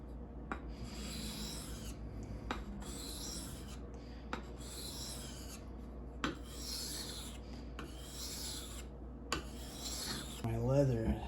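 A knife being sharpened with steady, repeated rasping strokes, about six long even passes at a regular rhythm, close and clear with no talking, ending in a brief louder scrape.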